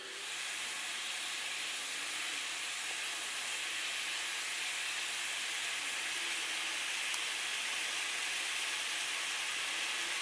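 Water poured onto a hot griddle produces a continuous even hiss of steam and sizzle lasting the whole stretch, close and steady with no voices.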